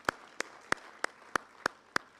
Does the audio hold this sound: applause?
yes